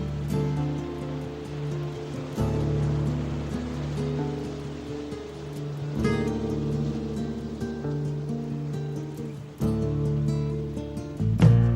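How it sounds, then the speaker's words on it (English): Ocean waves surge and wash in steadily at the opening of a song, a broad hiss that swells and recedes beneath sustained musical tones. "It's got a little beachy vibe at the beginning. Yeah. Waves coming in."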